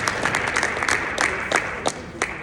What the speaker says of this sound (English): let's give it a round of applause for us